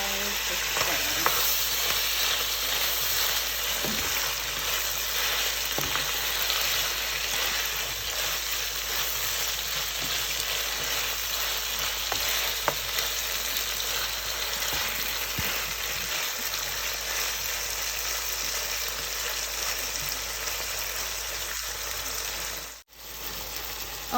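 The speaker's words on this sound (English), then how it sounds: "And then we are going to stir." Ackee and saltfish with hot pepper is stirred in a hot pan, giving a long, steady sizzle broken by soft scrapes and occasional knocks of the spoon, close and fairly loud.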